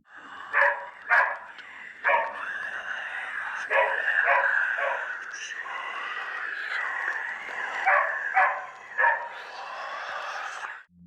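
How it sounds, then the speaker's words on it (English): A dog in a horror series scene barks repeatedly in short, sharp bursts spread across the passage, fairly close and loud, with yips and whimpering tones between barks. "he leaves to check on his dog who started barking"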